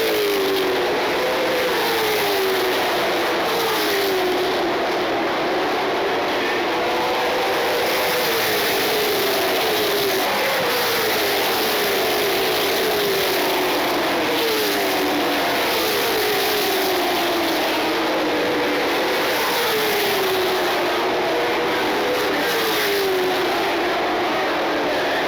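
Race cars roar around a dirt track at Tri-County, engines loud and close and continuous, with rising and falling pitch sweeps as cars pass and jostle for position.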